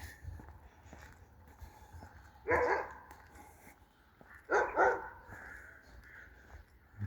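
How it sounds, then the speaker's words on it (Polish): A dog barks twice in the distance outdoors, two short separated bursts over quiet ambient background noise on a walk. "Jakiś pies tam szczeka."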